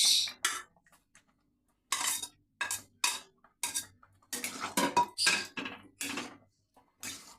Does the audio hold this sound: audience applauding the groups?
no